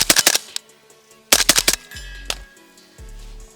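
A suppressed MP5 SD 9mm carbine firing two rapid bursts of several shots, then two single shots, each with a sharp muffled crack and clattering action, close by.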